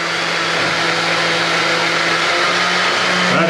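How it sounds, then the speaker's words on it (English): Dewalt 20V orbital sander running steadily and loud throughout, its motor drone holding a constant whine with a slight pitch shift near the end as the variable speed changes. "So now we're going to use the orbital sander, but your variable speed."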